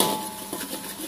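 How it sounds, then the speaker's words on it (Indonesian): Korean buldak chicken is stirred in a pan, giving a soft scraping and light clinking of a utensil against metal, steady and close, with no talk. "Diaduk-aduk."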